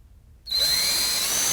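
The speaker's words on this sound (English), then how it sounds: "you're just going to drill a hole right inside the hole that's in your template" A power drill bores a hole through a template into a FatMax airbrush case, starting abruptly after a short silence with a steady high whine that holds to the end.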